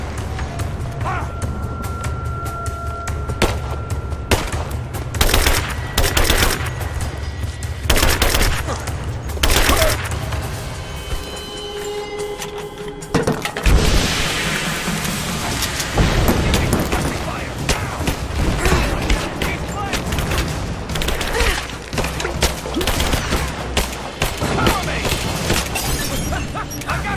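Bursts of gunfire in Rise of the Tomb Raider on PC, with rapid shots and shattering impacts over game music and effects, loud and dense through most of the stretch, with voices calling out at times.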